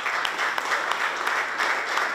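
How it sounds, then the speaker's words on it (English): An audience at a hardwood manufacturing press conference applauds, a steady wash of many hands clapping, moderately loud and without speech. "you've got to give him a big round of applause"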